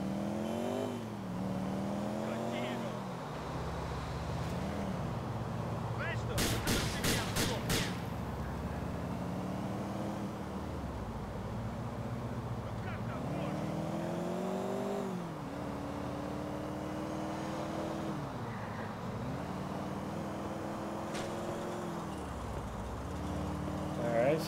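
A van speeding along in GTA IV, its engine droning and rising and falling in pitch with gear changes, with a brief burst of gunfire-like bangs midway and a voice talking over the top.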